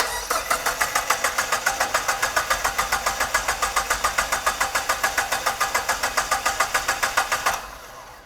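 A 1985 Dodge minivan with a swapped SRT4 turbo engine cranks on starting fluid without catching, a steady loud rhythmic chug of the starter for about seven and a half seconds before it stops abruptly.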